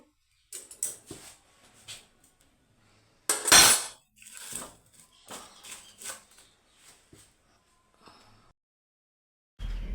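Sweet potatoes being shifted around inside a pressure cooker, a handful of close metallic clanks and scrapes with one louder knock, separated by quiet gaps.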